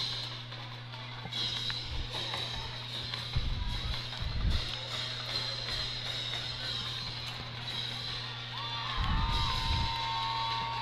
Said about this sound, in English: they've got a fair crowd that was out to honor their seniors